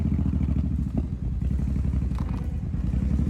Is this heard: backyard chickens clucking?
no